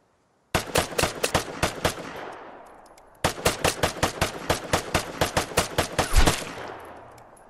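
Two rapid bursts of game gunfire, the first about eight sharp shots and the second a longer string of evenly spaced, loud cracks ending in a heavier blast, with no talking.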